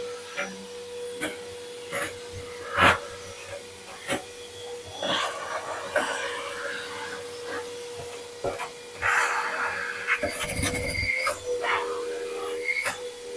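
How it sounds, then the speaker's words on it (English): Vacuum cleaner kept for bakery use sucking out the corners of an oven, its steady motor drone running throughout with repeated sharp knocks and bumps as the nozzle hits the oven walls. "I've got this vacuum cleaner that I only use in my bakery, and I'll just vacuum out the corners"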